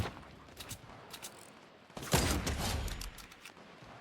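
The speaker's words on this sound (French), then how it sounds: "il y a des tirs partout" Gunfire and rocket blasts crack through a Fortnite match, starting with scattered sharp shots and building to a louder cluster of booming impacts around the midpoint, followed by more spaced pops.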